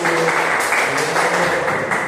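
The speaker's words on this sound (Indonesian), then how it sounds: "tepuk tangan untuk kelompok satu" A classroom of young pupils claps for group one, a dense, steady patter of hands filling the short stretch without a break.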